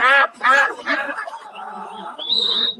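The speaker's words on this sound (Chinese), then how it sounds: "这就是鸭子，一只鸭群。" Several loud, nasal duck quacks burst out at the start, then soften into quieter overlapping calls, with a thin high tone rising near the end.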